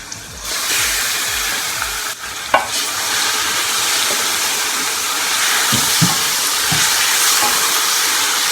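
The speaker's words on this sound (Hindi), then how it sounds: "अब हम अपना चिकन इसके अंदर डाल देंगे।" Chicken sizzling and frying in a pan with garlic for a korma, a steady loud hiss with occasional stirring clatters and pops.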